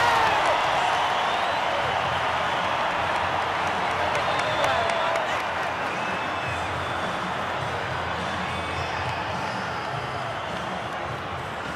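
Rugby stadium crowd at a 2010 Super Rugby match between the Vodacom Bulls and Waratahs, a broad sustained roar with scattered clapping that slowly fades over several seconds.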